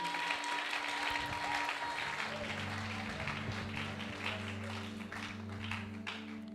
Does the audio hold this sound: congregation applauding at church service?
yes